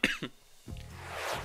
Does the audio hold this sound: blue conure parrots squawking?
no